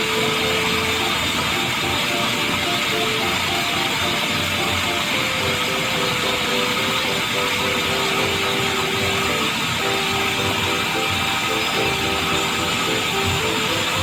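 Electric mixer running continuously through thick black bean brownie batter, a loud, steady motor whine with a faint rattling texture and no voices.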